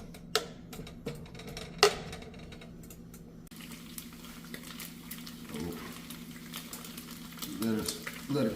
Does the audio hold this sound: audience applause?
no